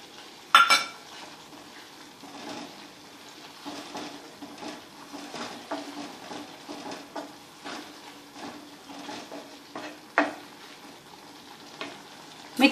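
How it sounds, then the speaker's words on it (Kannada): Grated coconut stirred into tomato gojju in a pan on the stove, soft scraping and sizzling with occasional spoon clinks against the metal, steady and close, no talk. "ನಂತರ ಕಾಯಿ ತುರಿ ಇರುತ್ತಲ್ಲ ಅದನ್ನು ಹಾಕೊಂಡು ಮಿಕ್ಸ್ ಮಾಡ್ಕೋಬೇಕು"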